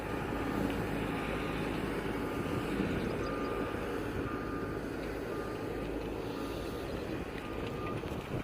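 A motor grader fitted with a trench shoe attachment on its blade works at an asphalt trench-widening site, its engine a loud, continuous diesel drone with a faint, regularly repeating reversing beep running through it.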